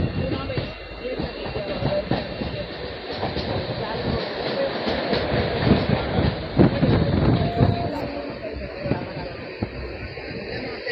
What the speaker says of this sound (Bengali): এটা হলো এন্ড স্টেশন তো যার জন্য ট্রেনের গতিবেগ একদমই কম রয়েছে